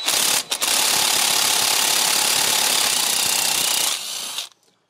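An impact wrench hammers loose the brake disc screw on a BMW E90 320d, a loud rapid rattling burst lasting about four seconds after a short stuttering start, then cutting off.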